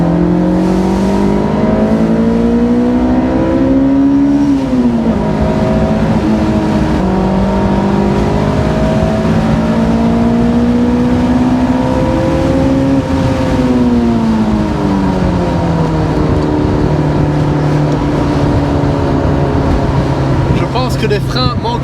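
A Honda S sports car engine revs hard during a test drive, its pitch climbing through the gears and dropping at each shift, loud and close from inside the cabin, with people talking over it.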